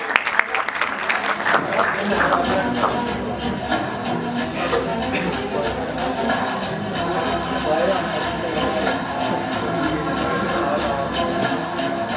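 An audience at a certificate ceremony applauds continuously, a steady wash of many hands clapping with a few louder claps at the start, sustained without break.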